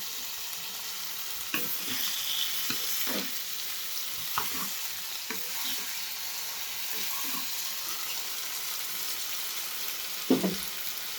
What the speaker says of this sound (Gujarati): ટામેટા આપણે 2 નંગ લીધા છે, ઝીણા સમારીને એને પણ આપણે એમાં એડ કરી દઈશું.